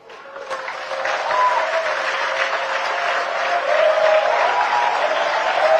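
An audience at an EFCC chairman's address bursts into applause. It swells quickly from a few claps into sustained, dense clapping that stays loud and even throughout, with a faint tone in the background.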